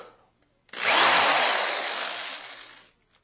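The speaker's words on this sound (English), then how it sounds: "Use the drill." A power drill whirs in one sustained, close burst of about two seconds, starting abruptly and tapering off before stopping.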